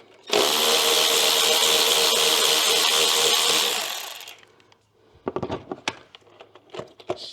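An electric ratchet whirs loudly and continuously for a few seconds while removing bolts on an Alfa Romeo Giulia, then winds down, followed by scattered metallic clicks and handling noises of bolts and tools.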